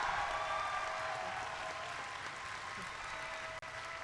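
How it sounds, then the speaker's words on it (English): A crowd at the opening ceremony of a 2023 robotics district championship applauds, a soft, distant wash of clapping that holds steady with a brief dropout near the end. "Big round of applause, guys."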